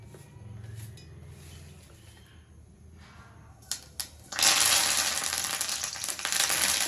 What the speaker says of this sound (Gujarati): ધીમો ગેસ કરી અને થોડા થોડા પાન તળી લેવાના